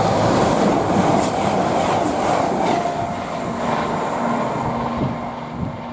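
A Voyager train passes through Tamworth station on the West Coast Main Line, a loud steady rolling rumble with wheel clatter and brief metallic squeals, close by and gradually fading.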